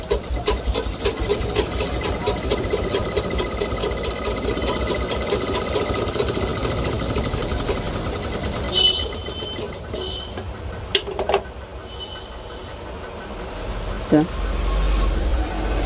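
A household sewing machine stitching with a fast, steady mechanical whir and clatter for most of the stretch, then stopping, with a few clicks and a person talking over it.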